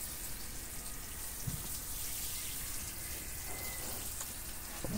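Soft, steady trickle and spray of water from a watering bulb over small lettuce seedlings in a greenhouse, quiet and continuous with a few faint drips.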